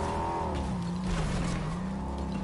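A car drives in the Fortnite video game, its engine tone rising and falling as it moves, with a brief squeal, steady and fairly close, no talk.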